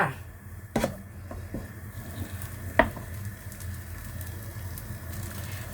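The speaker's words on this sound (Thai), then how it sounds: "กวนไปจนกว่าจะสุกจ้า" Quiet scraping and soft stirring of sticky dough in a pan with a faint sizzle underneath, punctuated by a couple of sharp knocks of the utensil.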